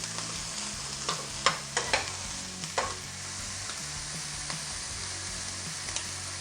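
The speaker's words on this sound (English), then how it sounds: "I've just finished frying up our bacon and mushroom stem" Steady sizzling of bacon and mushroom stems frying in a pan, with occasional scraping stirs and utensil clicks, no voices.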